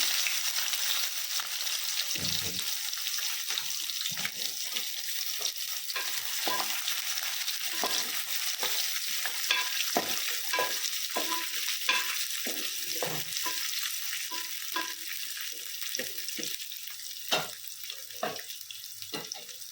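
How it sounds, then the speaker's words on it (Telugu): Onions frying in hot oil with bay leaf and shahi jeera for a Telugu aloo masala curry, a steady close sizzle broken by repeated clacks and scrapes of a stirring spoon against the pan, with no talking. "ఉల్లిపాయలు వేగుతున్నప్పుడు పసుపు వేసేసుకుందామండి"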